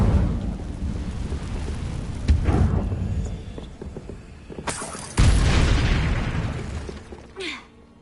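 The Incendio fire spell cast in a video game: a sudden whooshing burst that flares loudly and decays into a crackling rumble, preceded by softer thuds and followed by a brief airy swish.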